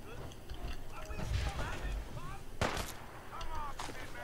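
Gunfire in the video game Fallout 4: a few sharp, punchy shots crack out at irregular moments, mixed with game effects and light background clatter, while a voice talks over it.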